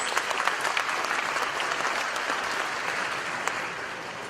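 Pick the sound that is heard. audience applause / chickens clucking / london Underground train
audience applause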